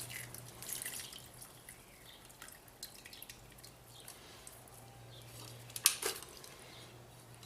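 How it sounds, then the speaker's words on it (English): Wet junk mail paper pulp squished by hand with water, giving faint, soft squelches and drips with one sharper wet squelch near the end, in a quiet setting. "let's give it a squish"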